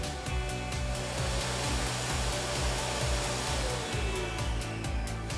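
An Arzum Cleanart Ultra Silent electric vacuum cleaner runs with a steady, close motor whoosh and hum that holds evenly throughout.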